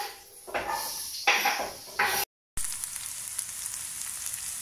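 Onion strips hitting a hot pan and frying, with a soft crackling sizzle, a few scraping stirs and clinks of utensils against the pan, then a steady quieter sizzle carrying on alone.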